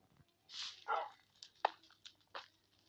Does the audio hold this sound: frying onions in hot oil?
no